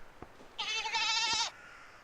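A goat in the game REKA lets out one clear, wavering bleat of about a second, up close, between a few faint clicks and thumps, with no talking.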